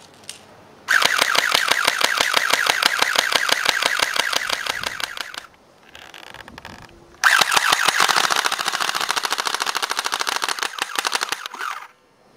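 Airsoft MP5 guns, a Tokyo Marui and a Well D95, firing on full auto in two long bursts separated by a short pause, each a loud, rapid, even rattle of mechanical clicks close by.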